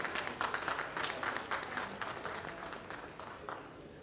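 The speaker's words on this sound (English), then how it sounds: "big round of applause for Ms. Anusha Shetty" A conference audience at a marketing congress breaks into applause, strongest at first and then gradually thinning and fading, with crisp individual claps audible in the crowd.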